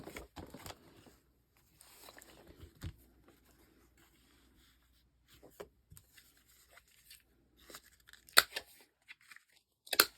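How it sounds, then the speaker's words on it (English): Scissors snip through paper and card while trimming pieces for a craft gratitude journal, giving a few scattered quiet cuts and light paper rustles with short pauses between them and no talking. "Let me cut off this white bit. And then we will cut this down."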